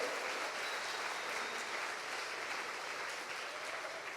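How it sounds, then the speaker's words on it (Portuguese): Steady, dense applause from a church audience, sustained and fairly loud throughout with no pauses. "alguém dá um aplauso para Jesus"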